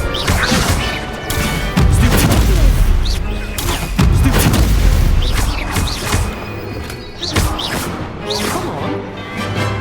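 Spells crash and boom in the video game Hogwarts Legacy, including the Incendio fire spell, with repeated loud impacts and bursts in quick succession over game noise.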